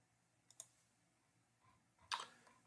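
Computer mouse clicks used to collapse a section of a web page: a quick pair of soft, close clicks, then a pause and a sharper single click, all quiet against near silence.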